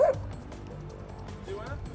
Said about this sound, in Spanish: Si te está ladrando, no te metas.